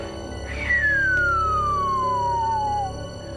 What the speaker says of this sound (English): They're long, kind of descending pitch signals that sound something like.